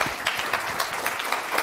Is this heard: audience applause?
yes